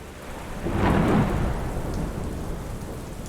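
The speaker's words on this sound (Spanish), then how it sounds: "La lluvia caía implacablemente sobre el tejado de la antigua mansión." Steady heavy rain pours onto the roof of an old mansion during a thunderstorm, and a low rumble of thunder swells near the one-second mark before easing back into the constant hiss of the downpour, with no voices.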